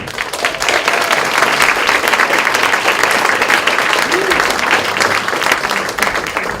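Warm audience applause at a Talbot County Free Library event welcoming a speaker, steady dense clapping from a room full of people, loud and sustained from start to finish.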